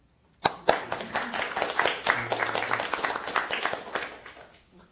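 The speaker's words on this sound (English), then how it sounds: "Can I applaud?" Small group at a city council meeting bursts into applause after a brief silence, sharp individual claps quickly building into steady clapping for a few seconds before tapering off.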